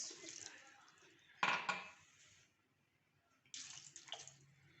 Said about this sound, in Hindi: इनको ये एक हम कढ़ाई में डालेंगे और इसमें शामिल करेंगे हम 2 कप पानी